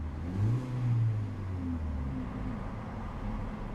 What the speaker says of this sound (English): A very racy sounding exhaust from that central mounted exhaust port at the back.